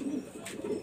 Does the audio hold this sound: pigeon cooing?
yes